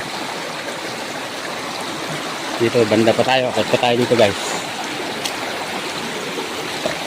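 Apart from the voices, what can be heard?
river stream flowing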